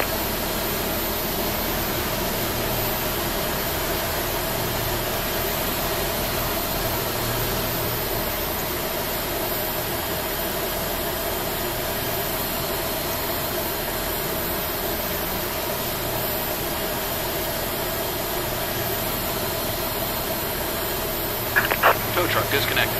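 Airliner jet engines running steadily after start in a flight simulator cockpit, a constant loud broadband hum and whine throughout, with a few brief clicks near the end.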